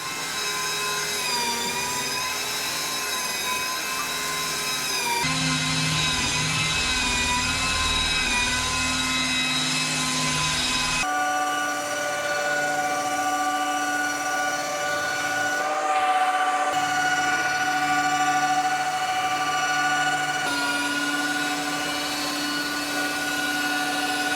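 A drywall giraffe sander works over plastered walls on an indoor renovation site, its motor whining steadily with a sustained tonal hum that shifts pitch in a few abrupt steps as the sanding head moves, loud and continuous with no talk.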